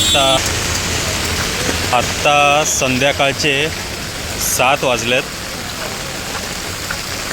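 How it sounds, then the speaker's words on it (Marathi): Heavy rain pours steadily in Nalasopara in August, a continuous broadband hiss that runs through the whole stretch while someone talks over it. "बरेच दिवसांनी पुन्हा असा जोरदार पाऊस आला। आज सकाळपासूनच पाऊस पडतो आहे"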